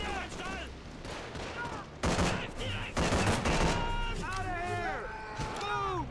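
Gunfire in the Call of Duty 3 video game on PS2, a dense fusillade of rapid shots running almost throughout, loud and continuous, mixed with game voices and music-like tones.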